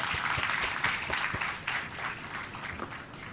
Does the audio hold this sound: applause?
yes